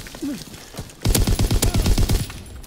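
Lewis machine gun fire in Call of Duty WW2 multiplayer, a loud, close rapid burst of about a dozen evenly spaced shots lasting under two seconds, preceded by a brief quiet stretch with a faint voice.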